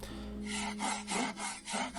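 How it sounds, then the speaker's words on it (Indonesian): Rhythmic scraping strokes of a photo frame rubbing against a surface, about five rasping passes in a row, close and fairly quiet. "Dan foto itu doang nih gesek."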